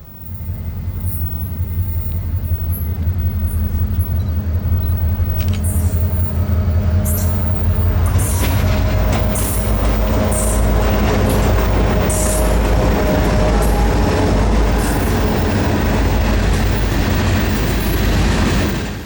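A Florida East Coast Railway train rumbles past close by in St. Augustine, heavy and continuous, with clattering wheels and bursts of high metallic squeal along the rails.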